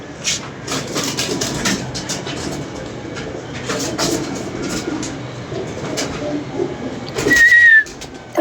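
Pigeons let out of their loft flutter and shuffle close by against a busy background, and a sharp whistle rises near the end.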